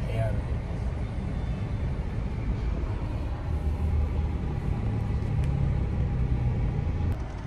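Busy street traffic in Bonifacio Global City near St. Luke's Medical Center, a steady close rumble of car engines and tires with a constant low drone throughout and talk faintly mixed in.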